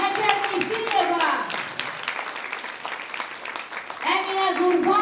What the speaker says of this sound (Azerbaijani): Gəlin onları bir ürəkdən alqışlayaq.